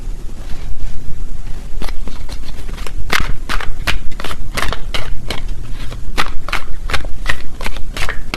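Tarot cards are shuffled during a reading, with loud, close riffling and snapping strokes repeating at a steady rhythm over a constant papery rustle.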